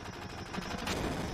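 Gunfire from the Final Fantasy VII video game: a dense, continuous rattle of shots, steady and moderately loud, with no talking.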